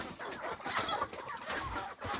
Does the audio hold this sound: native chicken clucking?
yes